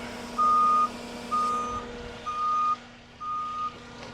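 Loud reversing beeps sound from a delivery lorry as its tail lift is lowered: four evenly spaced electronic tones over a low, steady motor hum.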